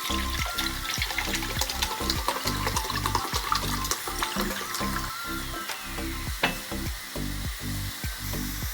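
Thai jungle curry with straw mushrooms boils in a pot, giving a steady run of deep, rhythmic bubbling pulses with light wet clatter on top, close and fairly loud, with no voices.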